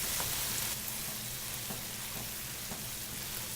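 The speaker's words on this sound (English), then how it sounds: "Stock with my left hand, stir risotto with my right hand." Risotto con pancetta with mushrooms and walnuts being stirred in the pan as stock is added, giving a steady close-up simmering sizzle with faint soft stirring scrapes and no talking.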